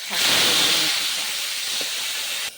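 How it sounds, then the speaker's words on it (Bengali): Fenugreek greens hit hot oil in a wok with a sudden loud hiss that gradually settles into a steady sizzle, then cuts off abruptly. "এবার আমি শাকটাকে ভেজে দিলাম।"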